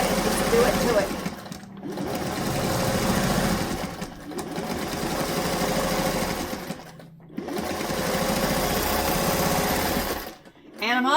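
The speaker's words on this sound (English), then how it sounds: "this sewing machine is finally working at its top speed, instead of being so slow" Home sewing machine stitching a pot holder at its top speed, a fast, dense mechanical whir running almost continuously and stopping briefly three times, loud and close, with a person's voice also present.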